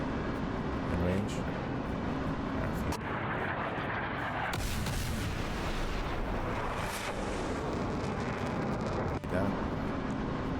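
Rocket salvo fired from a close-air-support aircraft in a complex flight simulator game: a dense, roaring broadband rush with a couple of sharper surges, continuous over engine noise while someone talks throughout.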